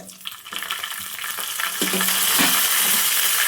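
Cumin and fennel seeds fry in hot oil for a chicken masala, giving a steady hissing sizzle that swells louder over a few seconds. Faint stirring clicks sound near the start.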